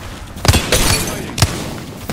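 Explosions and impacts in an online battle-royale shooter with shields and kill leaders, heard as several sharp booming thuds spaced across the moment, loud and close amid busy game noise.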